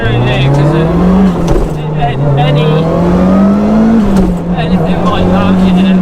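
A Mitsubishi Evo 5 engine drones loudly and close, its pitch dipping and climbing through a downshift in a continuous, strained note.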